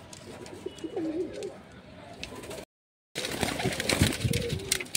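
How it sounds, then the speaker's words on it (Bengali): Pigeons, including Dasu, white chatiyal and Andhra breeds, coo in low, rolling phrases inside a loft in Kharagpur, several birds overlapping close by, broken by a short silent gap before the cooing resumes stronger with faint chirps. "দেখুন পায়রাগুলো দেখুন"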